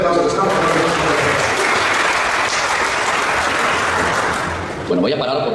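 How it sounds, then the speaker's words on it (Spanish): Loud, sustained audience applause welcoming a speaker at a religious gathering, dense crowd clapping that holds steady and fades slightly at the end, with voices mixed in. "Un fuerte aplauso."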